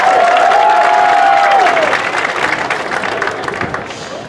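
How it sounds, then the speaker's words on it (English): An outdoor graduation crowd claps and cheers loudly, a broad wash of applause with a few whoops that gradually thins out. "y'all can clap for the weather"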